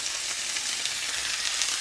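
Steaks sear in avocado oil in a hot pan, a close, continuous hiss and crackle of sizzling fat with small pops scattered throughout.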